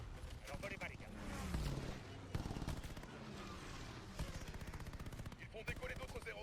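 Anti-aircraft cannons fire in the Pacific air combat of Call of Duty: Vanguard as rapid, repeated bursts of shots that continue through the clip, with a voice talking over the gunfire.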